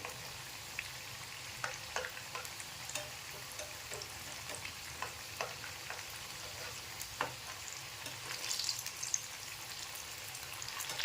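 Green pea cutlets (matar vade) shallow-fry in oil with a steady, close crackling sizzle, broken by occasional sharp pops and spatters; no one speaks.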